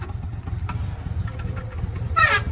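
A BMW 730 with a valved exhaust idles in a steady low rumble throughout, with a brief higher-pitched whine and rattle near the end.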